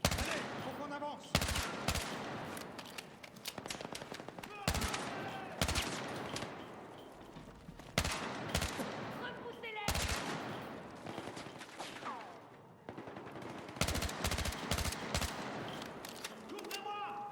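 Gunfire in the shooter game Battlefield 6: loud bursts of rapid automatic fire and sharp single shots in repeated volleys, with voices talking between and over the shooting.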